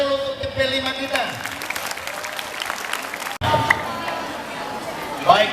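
Applause at a school event for the P5 team, many hands clapping steadily across a schoolyard, with crowd chatter and a loudspeaker voice mixed in.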